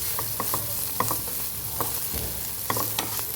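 A spoon stirring cluster bean sabzi seasoned with chaat masala and salt in a sizzling pan, with repeated scraping strokes over a steady frying hiss, close and alone.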